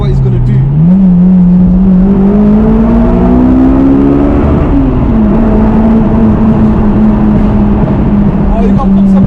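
A 2006 Honda Civic EP3 Type-R, Stage 2 tuned, revs its VTEC engine inside a tunnel: a loud, close engine note climbs steadily in pitch, drops briefly, then holds a high, sustained howl, while people talk over it.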